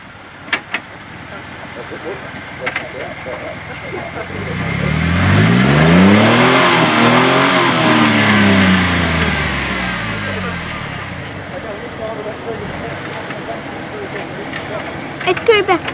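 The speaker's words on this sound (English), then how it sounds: "We'll get Dave to drive up now." A 4WD vehicle's engine revs and strains while climbing an off-road slope with a dragging diff, swelling louder mid-way with rising and falling pitch, under occasional voices.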